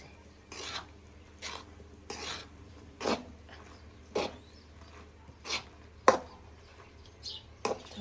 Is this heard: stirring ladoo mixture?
yes